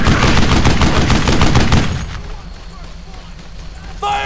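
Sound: gunfire in video game Brothers in Arms: Earned in Blood

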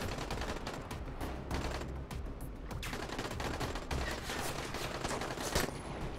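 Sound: gunshots in the video game Dying Light

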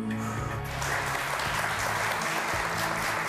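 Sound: studio audience applause on a TV quiz show

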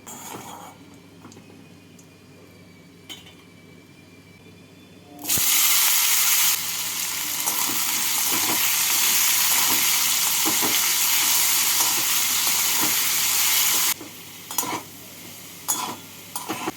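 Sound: potatoes frying in mustard oil

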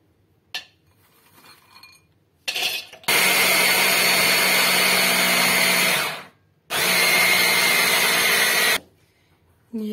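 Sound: machine chopping almonds and hazelnuts for turrón

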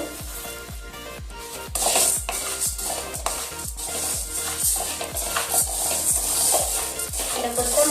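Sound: spices for rasam powder crackling while roasting in a pan

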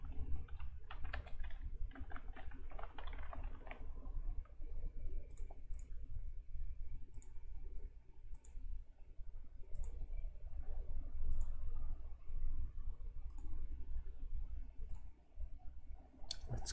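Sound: computer mouse clicking

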